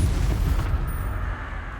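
A Confringo fire spell blast from Hogwarts Legacy lands as a dense, loud low-end boom, then decays into a roaring rumble over under two seconds.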